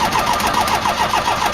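An aircraft engine is cranked on a weak battery, with the starter churning slowly in a steady, labored rhythm of repeated whirring strokes, loud and close, without catching.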